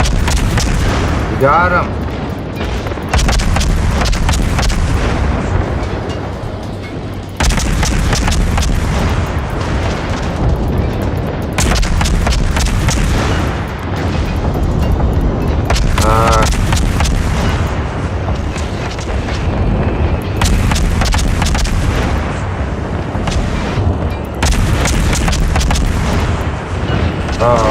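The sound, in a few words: naval gunfire from World of Warships video game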